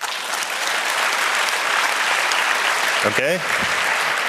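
Audience at a physics talk on LHC data analysis applauds as a show-of-hands vote, steady dense clapping throughout, with a single voice speaking briefly over it near the end.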